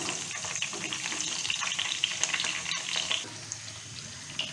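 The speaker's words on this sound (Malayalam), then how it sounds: "ഞാനിവിടെ 5 വെണ്ടയ്ക്ക കട്ട് ചെയ്ത് വെച്ചിട്ടുണ്ട്. അത് നമുക്ക് ഈ എണ്ണയിലോട്ട് ഇട്ട് കൊടുക്കാം" Sliced okra frying in hot oil in a pan gives a steady, faint bubbling sizzle with small crackles throughout, heard alone with no talk.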